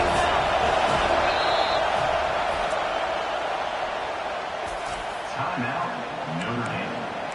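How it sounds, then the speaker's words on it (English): Stadium crowd at a Notre Dame football game roars loudly and steadily, a broad wash of massed noise that eases slightly, with a commentator's voice briefly over it. "This crowd trying to make life miserable for this offense."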